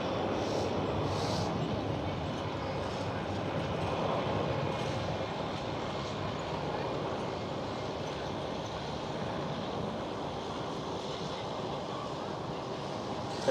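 A KLM Cityhopper Embraer E175 jet takes off at Schiphol, Amsterdam. Its engines make a steady, broad rushing rumble at moderate distance that holds evenly, with no one talking.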